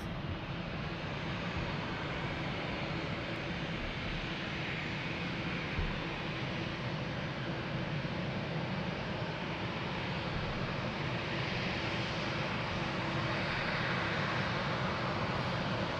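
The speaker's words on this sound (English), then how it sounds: "Nice 330, amazing landing of course" An Airbus A330 airliner lands at Lisbon Airport, heard as a steady broad engine roar and rush of air that holds at an even, moderate level throughout.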